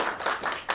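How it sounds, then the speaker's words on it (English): A theater audience at the Hideout claps in a few short bursts, modest and fairly close, with no talking over it. "And now clap your hands if you've been here before."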